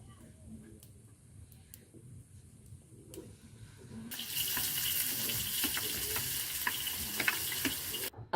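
Onions fry in a pan for African village cooking, a faint sizzle and stirring early on that swells into a louder, steady hiss of frying about halfway through, with occasional clicks and scrapes.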